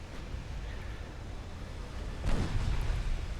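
Naval battleship guns rumble in a dreadnought-era war game, a low continuous roar with a heavier boom about two-thirds through, dense and fairly close.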